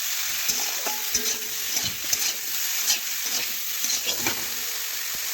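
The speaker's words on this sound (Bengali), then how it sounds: "আমি এটা 5 থেকে 10 সেকেন্ড মতো একটু নাড়াচাড়া করে ভেজে নিচ্ছি" Cauliflower florets stir-fried briefly in a pan give a steady close sizzle and hiss, with soft clicks and scrapes from stirring throughout. No voices are heard.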